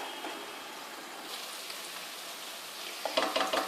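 Onion paste sizzles and spits steadily in a hot pan for a fish curry, soft and close, with louder crackling bursts near the end and no talk.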